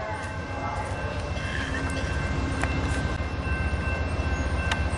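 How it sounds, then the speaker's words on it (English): An Amtrak train rumbles steadily at the Martinez, California station, a continuous close rolling roar with faint high squeals and tones, and no one speaking. "I just got off the train in Martinez, California."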